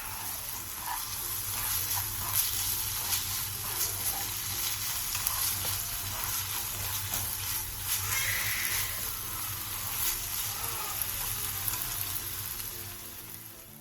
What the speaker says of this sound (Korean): 그 다음 청양고추를 넣고 1분 정도 가볍게 볶아주세요.